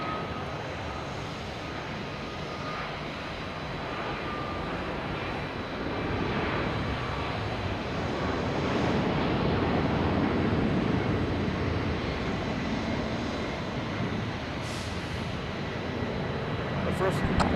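A Delta Boeing 737-800 taking off from Boston Logan Airport, bound for Tampa, produces a steady broadband jet roar that swells mid-way and holds loud throughout, with a person talking faintly beneath it.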